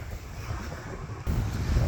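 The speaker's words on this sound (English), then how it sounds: "And it is extremely windy." Strong wind sweeps across Sunset Key beach in Key West, a loud, constant roar buffeting the microphone that jumps louder partway through, with no voices.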